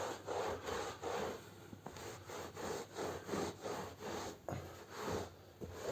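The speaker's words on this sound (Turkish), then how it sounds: "Duruladıktan sonra kullanmadığınız bir havluyla halının iyice nemini alın." A towel is rubbed firmly back and forth across a carpet to soak up moisture after rinsing, giving a steady rhythmic scrubbing swish in close, repeated strokes with no talking.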